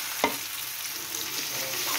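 Hot and sweet chicken is stirred in a frying pan, giving a continuous close sizzle with a short utensil clink near the start and soft scraping as the mixture is turned. No speech.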